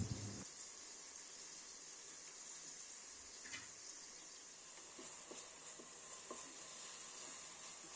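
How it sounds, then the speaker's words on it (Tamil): Onions and tomatoes sauté in a pan for sambar rice, giving a faint, steady sizzle with occasional soft stirring ticks close by. "வெங்காயம் நல்லா வதங்கினதும் தக்காளி சேர்த்து தக்காளி நல்லா குழையிற அளவுக்கு வேக விடணும்."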